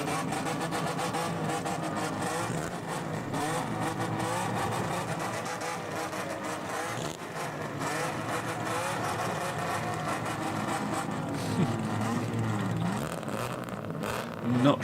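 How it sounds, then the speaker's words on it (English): Modified cars with loud exhausts, including a wide-body Toyota Cressida, rumbling and revving through a Japanese New Year meet parade, a continuous engine drone with occasional blips and crowd noise mixed in. "Not sure how much you get away with that exhaust in the UK, but should probably give it a go."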